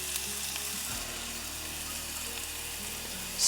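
Minced onion hitting a tablespoon of heated olive oil, giving a steady, close frying sizzle that holds at an even level throughout with a slight swell at the end, no voices present.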